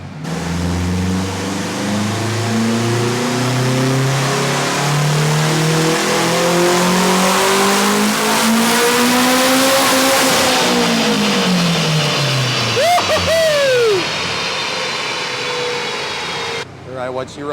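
A turbocharged 8th-generation Honda Civic on a dyno screams through a long rising pull, engine pitch climbing steadily, then lifts off with a sharp turbo whoosh and chatter before dropping to idle.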